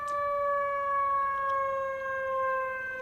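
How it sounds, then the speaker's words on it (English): A manually operated shark alarm siren tone, like an old air raid siren, for Australian surf rescue vehicles, heard as a loud steady wail that holds a near-constant pitch with slight waver throughout. "It sounds like one of the old air raid sirens, or one of the old Shark+alarm sirens used to be attached to a lot of the surf clubs years ago."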